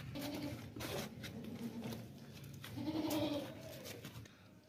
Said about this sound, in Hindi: बहुत ही प्यारा और खूबसूरत बकरा है माशाल्लाह से, बढ़ने वाला बकरा है